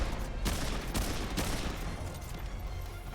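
Rapid gunfire in Remnant II as shots are fired at a golem, a dense sustained burst with a few sharper cracks standing out, loud and continuous throughout.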